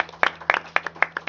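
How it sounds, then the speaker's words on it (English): A few scattered hand claps from a small group, sparse bursts of about five or six claps that stay light and close, heard after a request to applaud someone. "So can we give him like a round of applause?"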